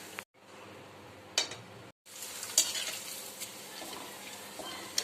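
Homemade sun-dried tomato papad sizzles and crackles steadily in hot oil, with bursts of bubbling and a few light stirring clinks, close by and without speech.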